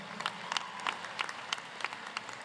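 Scattered, fairly faint applause from the audience at a Rocky River High School graduation ceremony as families are honored, with separate claps rising and falling in loose bursts.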